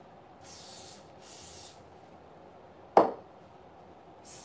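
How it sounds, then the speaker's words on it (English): Hairspray hisses onto the hairline of a lace front wig in three short bursts, with a sharp clack in between, close and clear in a quiet room. "Spray our hairline."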